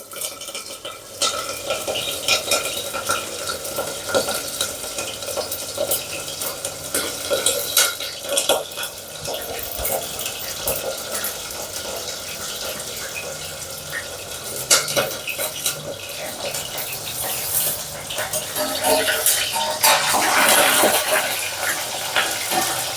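Green chillies fry in a pan for a fenugreek bhaji while a utensil stirs them, giving steady sizzling broken by frequent scraping and clinks of metal against the pan, close and fairly loud with no talking.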